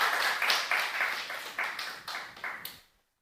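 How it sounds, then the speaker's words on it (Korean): A church congregation applauds for children, a lively close burst of clapping with uneven swells that tapers off and stops abruptly, followed by silence. "우리 문나인 문수화를 위해서 우리 박수 한번 쳐주십시오."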